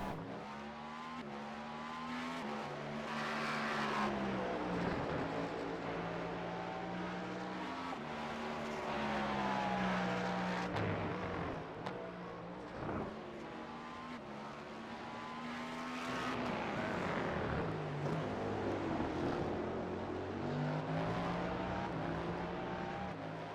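Porsche Cup race cars at Circuit of the Americas, engines roaring at high revs as they accelerate through turn 1, the pitch rising and falling with gear changes, loud and sustained with no speech.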